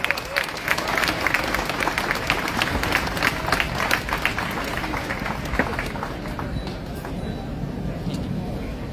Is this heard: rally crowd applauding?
yes